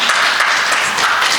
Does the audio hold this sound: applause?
yes